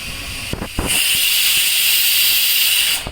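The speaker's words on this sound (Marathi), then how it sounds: "एक शिट्टी काढून घ्यायची आहे" A home stovetop pressure cooker holding water and a little salt lets out a single loud, sustained whistling hiss of escaping steam, preceded by a couple of short puffs and running steadily for over two seconds before cutting off.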